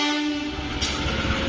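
A CC 201 diesel-electric locomotive passes close by, its horn sounding a loud sustained tone over the heavy rumble and rattle of the train.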